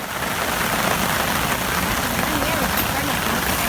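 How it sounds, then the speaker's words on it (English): Steady rain patters on a camping tarp over a tent site during a rainstorm, a dense continuous hiss with no break, fairly close and moderately loud. "Well, we got a nice little rainstorm."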